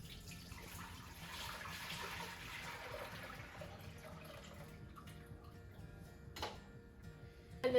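Cooked apple liquid is poured from a pot into a slow cooker, a soft, quiet trickle and splash that tapers off, ending with a light clink.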